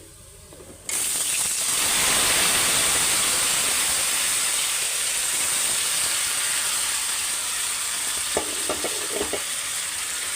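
Meat goes into a pan of deep-fried, browned onions, and a loud, close sizzle bursts on suddenly and holds as a strong steady hiss, with a few light knocks near the end.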